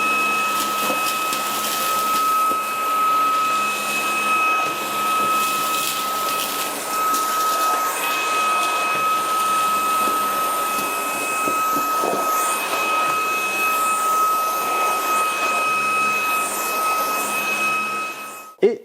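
A Proscenic P12 stick vacuum cleaner runs steadily over a rug, giving off a constant high-pitched motor whine with airy suction noise. It stays close and loud for the whole stretch, with no talk, and stops abruptly at the end.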